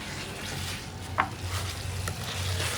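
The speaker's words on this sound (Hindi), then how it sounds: "तो चिकन को मसाले के साथ हमने अच्छे से भून लिया है।" Chicken sizzles in a pan with ground masala spices while being stirred, a steady soft frying hiss with a brief scrape of the spoon, close by and with no talking.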